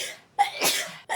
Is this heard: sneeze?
yes